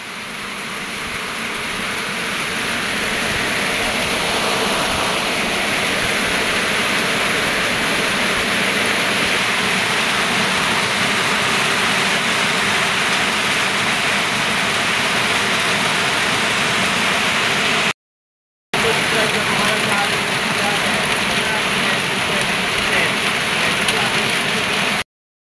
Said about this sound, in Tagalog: Malakas ng ulan dito sa amin.